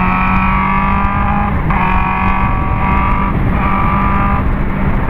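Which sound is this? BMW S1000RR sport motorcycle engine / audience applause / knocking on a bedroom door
BMW S1000RR sport motorcycle engine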